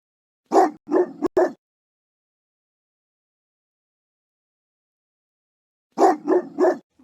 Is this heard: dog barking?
yes